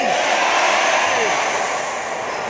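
An audience at a lecture shouts loudly all together to give a speaker a score, a sustained roaring crowd yell with no breaks.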